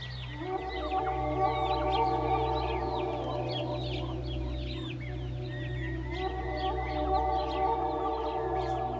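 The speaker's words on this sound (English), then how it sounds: "I hear the birds a lot clearer" Birds call and chirp repeatedly over a steady low hum, with clucking like chickens mixed in; no one speaks.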